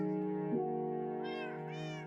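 A Minecraft cat meows twice in a close, clear, tonal call, with a sustained harmonic tone beneath from the game's soundtrack and no talk.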